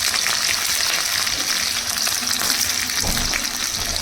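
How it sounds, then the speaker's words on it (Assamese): Green chili and onion frying in hot oil in a wok, a loud, dense, continuous sizzle and crackle heard up close with no voices. "কেৰাহীত তেল দিছোঁ, এতিয়া দিম মই ইয়াতে জলকীয়া আৰু দিলোঁ এইফালে পিঁয়াজ"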